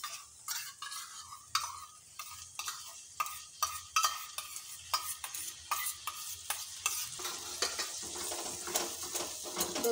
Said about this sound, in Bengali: দইটা দিয়ে আর কিছুক্ষণ কষিয়ে নেব।